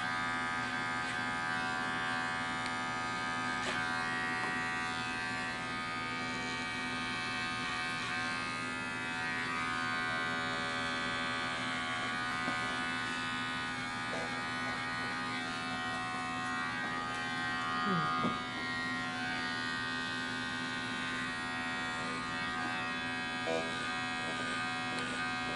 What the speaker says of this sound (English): now you're doing with the clipper.